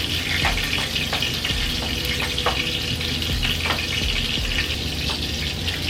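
Onions added to golden-brown garlic frying in a pan, a continuous close sizzle with scattered crackles and light stirring clicks, no voices.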